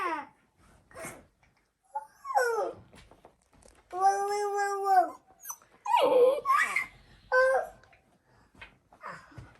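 Golden retriever puppy making short whimpering, babbling vocal bursts at close range, scattered in short clusters with pauses between, mixed with soft baby-like vocal sounds and occasional human voices.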